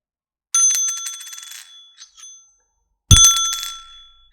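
An English 2p coin is dropped twice, each time striking with a sharp metallic clink and ringing with a bright, bell-like tone that fades, the second strike louder and closer, with no talking.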